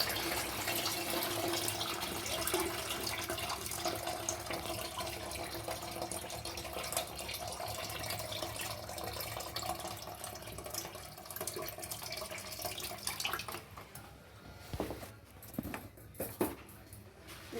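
Tap water runs continuously into a bowl of rice being washed for idli and dosa batter, a steady splashing rush that thins near the end into scattered drips and sloshes.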